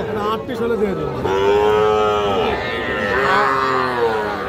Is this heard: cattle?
yes